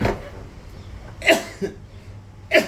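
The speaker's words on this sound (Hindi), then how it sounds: "भक्त तेरे को खांसी आ गई" Three short, sharp coughs spaced about a second apart over a low background hum, fairly close and moderately loud.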